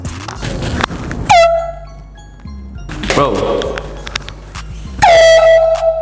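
Loud air horn blasts in a public prank, two long sustained honks separated by clattering and thuds, with people talking nearby.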